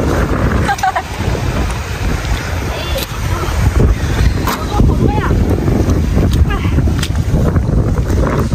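Strong wind blasts across a beach, rumbling loudly and unbroken against the microphone, with a person talking faintly under the gusts.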